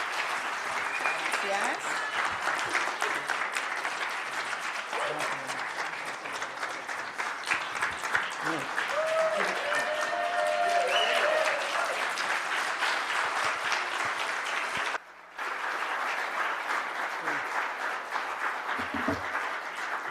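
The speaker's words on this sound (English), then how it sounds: "another round of applause for Osmayda, por favor." Long audience applause at an international conference in support of Cuba, a continuous crowd clapping wash with voices talking through it, briefly cutting out near the end before resuming.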